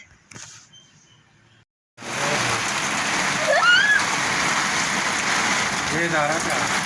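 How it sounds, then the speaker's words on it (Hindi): Heavy rain with hail pours down steadily with a dense, hissing roar, close and loud, after a quieter opening; a few faint voices sound briefly. "इतनी प्यारी तेज़ बारिश हो रही है"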